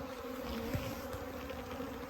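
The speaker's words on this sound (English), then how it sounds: "I have a bunch of confused bees" Confused honey bees from a newly installed bee package, with a dead queen, hum in a low steady drone at close range, with no other sound over it.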